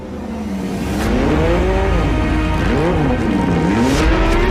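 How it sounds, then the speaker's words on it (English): A Porsche 911 GT3 Cup race car's six-cylinder boxer engine revs loudly and steadily, its pitch rising and falling in repeated sweeps with a faint hint of tire squeal, no talking. "the big key in the back is the 6-cylinder Boxer with its unmistakable sound"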